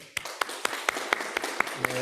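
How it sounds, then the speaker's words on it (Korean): Rhythmic clapping at a Korean church Sunday service, welcoming a newcomer, about eight evenly spaced sharp claps over a steady room murmur, with a low hum entering near the end. "일어나실 때 박수로 환영하겠습니다."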